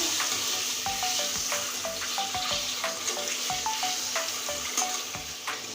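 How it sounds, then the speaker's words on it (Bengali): Salt and turmeric hit hot oil and sizzle steadily, with repeated clinks and scrapes of a spatula stirring in the pan over a continuous frying hiss. "লবণ হলুদের ভিতরে ছেড়ে দিচ্ছি তেলের ভিতরে এবার নেড়ে নেব সুন্দর করে"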